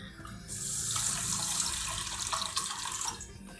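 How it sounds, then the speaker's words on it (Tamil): Water runs steadily from a tap for a few seconds, splashing over lentils being rinsed in a bowl, close and fairly loud with no talking. "நல்லா ஒரு 2-3 டைம்ஸ் தண்ணி விட்டு நல்லா வாஷ் பண்ணிவிடுங்க."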